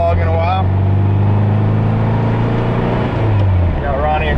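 An old Volkswagen Beetle drives along on a morning ride, its engine droning loud and close from inside the cabin, with someone talking over the steady hum.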